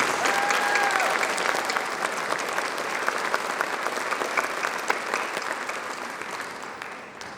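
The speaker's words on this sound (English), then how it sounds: "Please join me in expressing our appreciation with a round of applause." A banquet audience gives a sustained round of applause, thick, dense clapping from a crowd indoors that stays loud throughout and eases slightly toward the end, with a brief high tone near the start.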